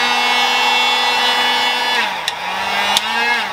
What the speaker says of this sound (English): Be careful with these heat guns, they are super hot.